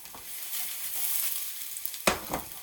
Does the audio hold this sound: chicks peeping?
no